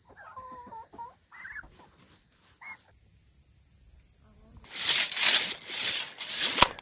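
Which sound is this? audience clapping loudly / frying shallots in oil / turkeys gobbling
turkeys gobbling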